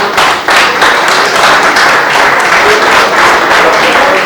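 A political rally crowd claps loudly and continuously, a close, dense wall of applause with scattered thumps, and no speech over it.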